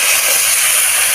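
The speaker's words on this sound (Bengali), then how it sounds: "এই যে পেঁয়াজ ভাজি করতেছি" Onions fry in a pan with a loud, dense, continuous sizzle that holds steady throughout, close up.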